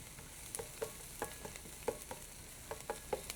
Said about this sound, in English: you notice I'm moving my utensil around very quickly